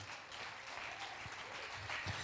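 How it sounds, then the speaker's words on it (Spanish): A congregation at a Spanish-language church service gives a round of applause, heard faint and distant as a continuous wash of clapping with a few low thumps. "Si no le das un aplauso al Señor por eso, despierta."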